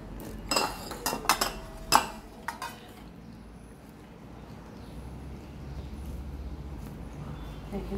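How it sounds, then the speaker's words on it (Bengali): Potato stick kebabs set onto a plate in a home kitchen: several sharp clinks and taps of utensil on dish early on, then a quiet low background with faint sizzling-like noise. "এই প্লেটটাতে এক সাইড করে রেখে দিচ্ছি।"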